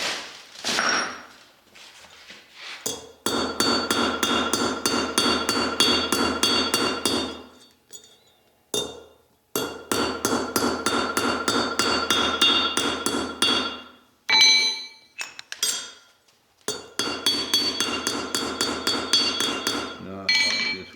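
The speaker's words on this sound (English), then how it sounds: "And then you also want to hammer the face." Rapid, ringing metallic blows strike the face of a small sand-cast 18k gold ingot, falling in long fast runs of close, loud taps separated by short pauses.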